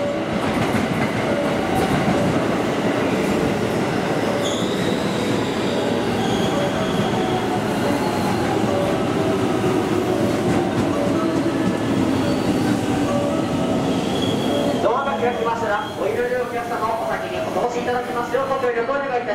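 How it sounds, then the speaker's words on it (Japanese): A JR train rolls into platform 4 at Amagasaki Station close by during evening rush, wheels squealing and rumbling steadily, with a sharp clattering of wheels near the end as it slows. "4番乗り場電車到着します"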